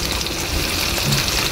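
Turmeric-coated loitta fish (Bombay duck) frying lightly in a pan: a steady, close, hissing sizzle that holds at an even level with no talk over it.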